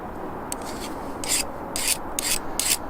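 A sharpening tool rubs across the face of a bonsai tool blade to take off a burr, giving a few short, close rasping strokes against a faint steady background.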